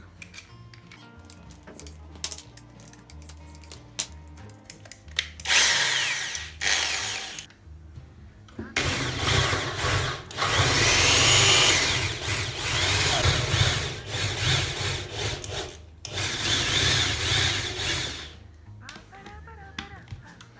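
A power drill widening screw holes for a kitchen cabinet handle, long loud grinding whirs into wood broken by short pauses and quieter handling clicks, close up, with no talking.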